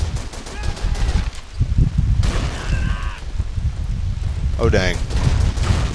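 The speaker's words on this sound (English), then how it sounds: "Another grenade." Gunfire and grenade blasts in the console shooter Call of Duty 3, dense bursts of shots and booms continuing throughout with a rising explosive whoosh near the end, while someone talks over the action.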